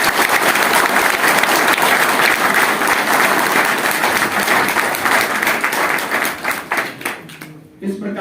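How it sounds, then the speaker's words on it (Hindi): Loud, dense applause from a crowd at a union gathering in Delhi honouring twelve rat-hole miners, sustained for several seconds before thinning into scattered claps near the end. "एक बार जोरदार तालियां"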